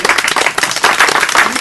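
Audience at a daycare centre ceremony breaks into dense, continuous clapping that fills the whole brief moment.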